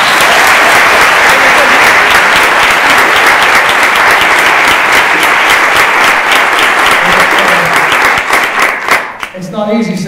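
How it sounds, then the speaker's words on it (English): A seated audience at a health professions panel on the opioid crisis breaks into loud, full applause for the moderator, dense clapping that holds for about nine seconds before thinning out as a voice begins over the last scattered claps. "Can we give a round of applause for our moderator?"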